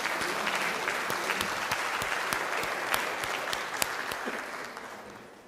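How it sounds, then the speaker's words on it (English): Audience applause at a live school event, dense steady clapping with a few sharper close claps, gradually fading toward the end. "One last round of applause for whoever's going to win."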